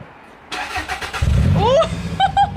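A Toyota Avensis SR fitted with a custom exhaust cranks over and catches, firing into a deep, bassy rumble with a brief rise in revs, recorded up close.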